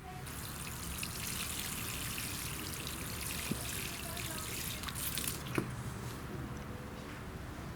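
Water being poured into fresh soil around a newly repotted Rhapis palm, a steady soft splashing and trickling that runs throughout, moderately quiet, with a couple of brief sharper drips.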